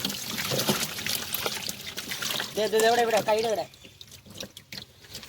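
Water trickles and flows steadily while people fishing talk loudly nearby, one voice rising into a drawn-out call.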